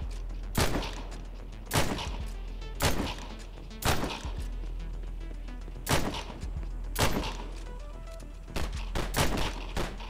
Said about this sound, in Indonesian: Okay, kita pakai sniper kat sini.